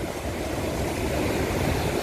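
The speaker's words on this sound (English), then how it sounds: "waves bigger than this, and they are building because obviously it's shallow, but Lisa's going around Cape Horn" Ocean waves off the east coast of Australia, building over shallow water, roar as a loud, continuous wash of surf with heavy wind noise and no distinct breaks.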